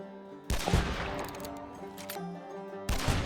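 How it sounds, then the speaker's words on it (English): Several sharp gunshots fired into a tangle of concertina wire in Hunt: Showdown, loud bursts at the start and again near the end with clattering debris and a ringing tail between them. "Shooting a few rounds into a bramble of concertina will quickly clear it out."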